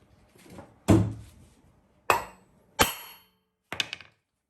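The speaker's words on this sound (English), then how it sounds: "when we strike this with the hammer, they will split apart" Four sharp metallic hammer blows on a steel clutch puller on a Ski-Doo 900 ACE snowmobile clutch, spaced about a second apart, each ringing briefly before fading.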